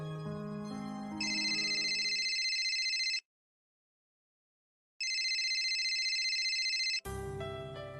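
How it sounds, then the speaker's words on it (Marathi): A phone ringtone plays a bright electronic melody in two bursts separated by a couple of seconds of silence, loud and close, alone, then cut off abruptly. "अनन्याचा फोन आहे"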